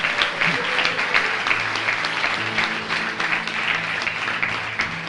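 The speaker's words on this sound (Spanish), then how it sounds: "Alábelo a Dios, dele un aplauso." Church congregation applauding, a dense steady patter of clapping that fills the room, with some voices and music-like tones mixed in underneath.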